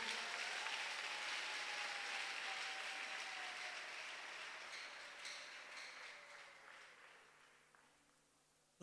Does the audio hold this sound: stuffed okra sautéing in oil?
no